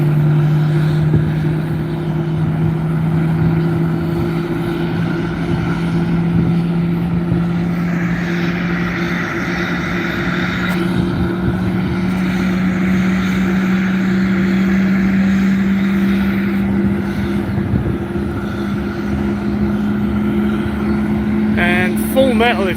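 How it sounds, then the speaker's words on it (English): Right-hand jet engine of an MD-11 spooling up on departure at Reno, a steady loud drone with strong sustained tones that holds throughout, overlaid with a person talking. "they're starting up the right-hand engine right now"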